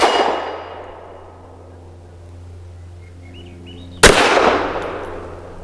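A Walther WMP round strikes a 3/8-inch AR-500 steel target with a sharp metallic clang at the start, ringing off slowly, and a second loud, crisp impact lands about four seconds later.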